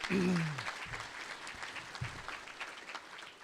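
Audience applause at an agriculture hall of fame induction ceremony, broad steady clapping from a room of people, with a voice heard briefly at the start over the clapping.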